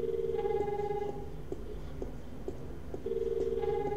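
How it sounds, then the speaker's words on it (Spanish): A telephone rings in the point-and-click adventure game The Longest Journey, two bursts of warbling electronic tones separated by a pause, with faint ticking clicks beneath and no voices. "Oye, te llaman por teléfono."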